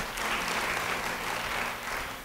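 Steady applause from a church congregation during a sermon, filling the room evenly for a couple of seconds without breaks, with a faint voice beneath.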